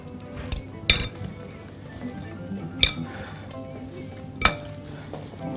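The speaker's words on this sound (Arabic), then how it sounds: "ده يتقلب مع بعضه مع رشه ملح" Potato wedges being tossed with a sprinkle of salt in a bowl, giving three or four sharp clinks and knocks against the dish over a low, steady background rumble.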